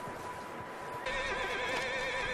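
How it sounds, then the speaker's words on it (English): A horse in the video game Red Dead Redemption 2 lets out a loud, wavering neigh lasting over a second, following a moment of quieter ambient game sound. "I hear a horse."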